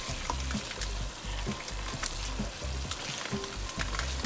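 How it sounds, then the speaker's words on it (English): Chicken sizzles steadily as it browns in a hot pan while a utensil scrapes and stirs in a repeating rhythm, close and fairly loud. "And we're stirring our chicken that's browning."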